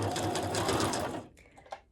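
A cheap entry-level sewing machine stitches through paper with a rapid, steady mechanical whirring and needle chatter that runs loud and close, then stops abruptly, followed by a couple of small clicks.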